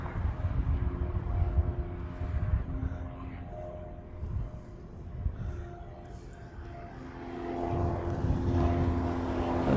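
A UPS Boeing 747 cargo jet taxis at an airport in Hawaii, its engines a steady distant roar that dips midway and swells louder again toward the end.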